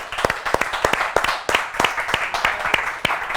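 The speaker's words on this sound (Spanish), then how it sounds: "Recibimos con un fuerte aplauso a nuestro amigo, el señor Alexis Dabat." A small studio audience claps in welcome, sharp individual hand claps in a loose, uneven rhythm, fairly close and without cheering.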